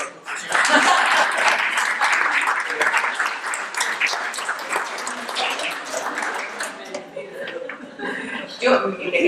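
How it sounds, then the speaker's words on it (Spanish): Crowd applause fills the room for several seconds, dense and steady at first, then thinning, with voices and a little laughter mixed in. "Un aplauso."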